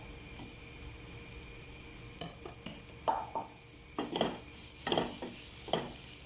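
Spoon stirring chopped tomatoes and spices in a cooking pan for a chicken kuruma, soft scraping strokes with a faint sizzle, close and fairly quiet, with no voices.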